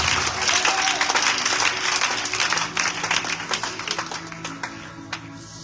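A church congregation at a midweek service bursts into loud applause, dense clapping filling the room for several seconds and slowly thinning out, with faint voices mixed in.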